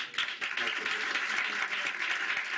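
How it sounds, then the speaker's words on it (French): An audience applauds loudly in honour of a football team's cup victory, a brief, dense burst of clapping heard close and continuous throughout. "Je vous demanderai donc d'applaudir très fort"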